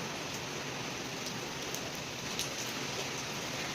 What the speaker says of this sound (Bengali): বাইরে যে কি বিভৎস বৃষ্টি হচ্ছে